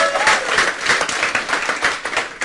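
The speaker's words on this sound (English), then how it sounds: "Give him an applause." An audience at a business event in Bangkok breaks into applause, with a steady wash of clapping from many hands filling the room for a few seconds.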